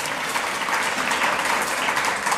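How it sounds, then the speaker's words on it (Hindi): Audience at a religious discourse applauding, with dense, steady clapping from a crowd continuing evenly throughout at moderate volume. "जोरदार ताली बजा दो तो फिर"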